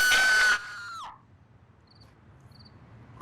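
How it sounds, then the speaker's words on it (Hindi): A loud, high-pitched scream from upstairs in a house bursts out for about half a second, then trails off in a falling wail, leaving a quiet room with faint insect-like chirps. "ये चीख सुनाई दी?"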